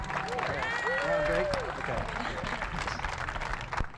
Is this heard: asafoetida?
no